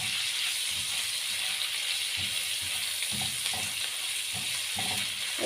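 Chicken liver and gizzards sautéing with black pepper in a pan, a continuous loud sizzle with repeated low scraping thuds of stirring throughout, no voices.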